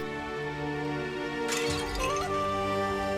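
A glass bottle suddenly shatters indoors, one bright crash midway that breaks over a steady backdrop of sustained musical tones, fairly loud and close.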